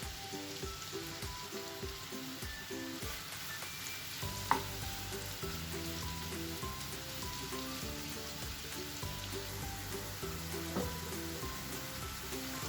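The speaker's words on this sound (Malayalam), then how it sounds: "നന്നായിട്ടൊന്ന് ഫ്ലെയിം കൂട്ടി വെച്ചിട്ട് വേണം നമ്മൾ ചെമ്മീൻ ഫ്രൈ ചെയ്യാൻ" Prawns fry over high flame in a pan for a Malabar kalmas snack, giving a steady, dense sizzle throughout with a sharp clink near the middle and another later. No one speaks.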